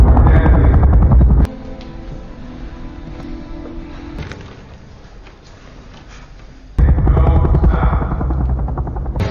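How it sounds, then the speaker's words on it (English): Military helicopters roar in a scene from the film A Quiet Place: Day One, a loud, steady rumbling rotor drone that drops to a quieter, muffled stretch midway before the full roar returns. "Announcements from military helicopters warn civilians to stay silent and hidden"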